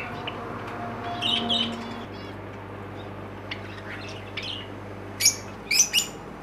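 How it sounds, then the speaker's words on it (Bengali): Adult cockatiels and other pet birds in cages, a few bright chirps early, then quieter calls and a cluster of loud, sharp tweets near the end over a low background hum. "ককাটেল পাখি সব ধাড়ি জোড়া আছে, সব এগুলো রেডি পাখি"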